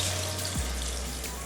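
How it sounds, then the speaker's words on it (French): Water poured into a cooking pot holding lightly grilled dried shrimp, dried cola and salted fish for a makwala broth, a steady close splashing pour running throughout with no talk. "je vais maintenant rajouter de l'eau"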